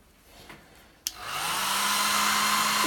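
A hair dryer clicks on and spins up into a loud, steady blowing whir with a constant motor hum, running alone without talk.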